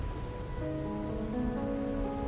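Steady rain falls in the video game Wuthering Waves, a soft, even hiss that holds throughout at low level, with faint tonal background music beneath it.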